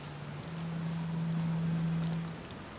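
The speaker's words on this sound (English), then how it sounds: "Good thing you never get bored of the rain" Steady rain hisses throughout in the video game Outer Wilds, with a constant low drone humming beneath the patter and no voices.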